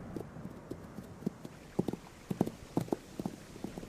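Kathiyawadi horse hooves clip-clopping at a steady walking pace, a run of sharp distinct hoof strikes growing a little louder and closer midway, with no voices.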